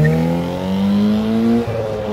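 A muscle car pulling out of a car show with a botched clutch launch, its engine droning loudly and steadily before a brief stumble near the end, with no talk.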